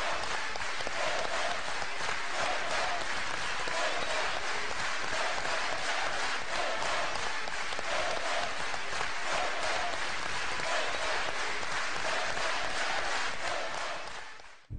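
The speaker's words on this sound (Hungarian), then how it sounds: "Nekik is tapsolnak, de nem a teljesítményért" Crowd applauding at Veszprém Aréna, dense sustained clapping from many people filling the hall at steady loudness for the whole stretch, fading out briefly at the very end.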